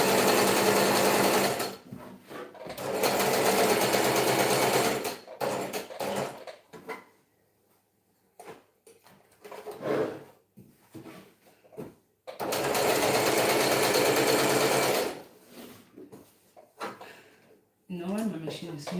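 A sewing machine stitches fabric in several bursts of rapid, rattling mechanical clatter, separated by pauses in which someone speaks and small handling sounds are heard.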